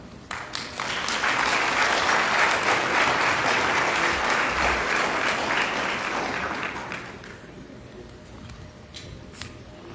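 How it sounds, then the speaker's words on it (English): Loud, sustained applause from a large crowd, steady for several seconds before thinning out into scattered claps toward the end. "let's give another warm and huge round of applause to all of our honorees"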